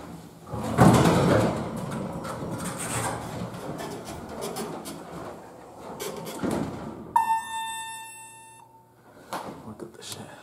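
A hydraulic glass elevator's sliding door opens and closes in a college music building, with a mechanical whir and rumble, followed by a steady electronic chime tone and a voice talking nearby.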